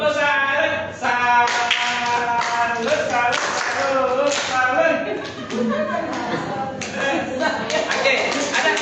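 A group in a classroom or training session performs a rhythmic clapping cheer, its taps and claps coming in quick patterned bursts under overlapping voices throughout.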